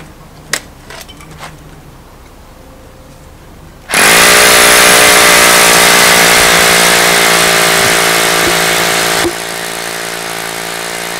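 A loud, steady power drill whine, drilling to fix a foot in a steel wall system, starts abruptly, runs continuously for several seconds, then eases off to a lower hum; quiet clatter before it begins.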